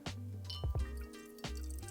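Water trickling and dripping through a filter straw threaded onto a standard water bottle outdoors by a creek, with close, quiet gurgles and several soft drips over about two seconds.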